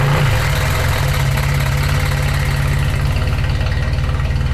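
A wrecked Ferrari 430 Scuderia engine idles roughly with a deep, steady pulsing rumble and a slight knocking beat, close and loud, with no voices.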